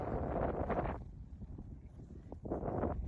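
Cold wind blows outdoors and buffets the microphone in two loud, rumbling gusts at the start and end, with quieter breezy noise between; no one speaks.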